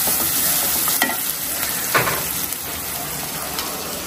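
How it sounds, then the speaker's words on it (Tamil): Onions sautéing in a pan, a dense close sizzle broken by a few sharp stirring scrapes and clinks of the spoon, with no talking. "வெங்காயத்தை நல்லா வதக்கிக்கிறோம்."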